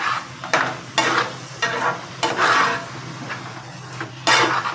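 Capsicum and pea curry with fresh yogurt is stirred steadily in a pan over high heat: a spoon scrapes in rhythmic strokes about once a second over a constant soft sizzle, close and fairly loud.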